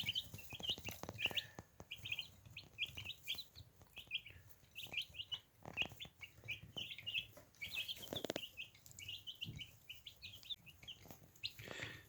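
Many small Dominant Mix chicks in their first days of life peep in rapid, high chirps, repeated busily throughout, with soft scratching and shuffling underneath.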